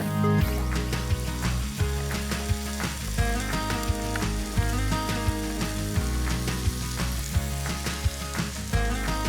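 Steak sizzles steadily on a hot grill, a continuous frying hiss running under a prominent tonal musical bed, with occasional small clicks and no talking.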